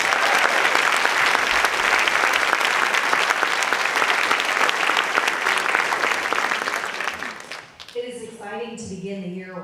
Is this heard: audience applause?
yes